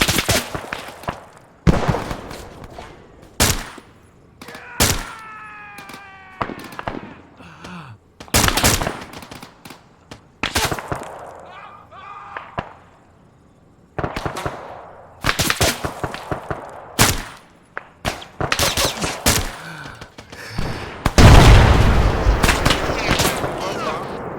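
Gunfire in the military shooter Arma 3, sharp loud single shots and rapid bursts from close and farther off, spread over about twenty-five seconds with pauses, plus brief spoken voices between shots.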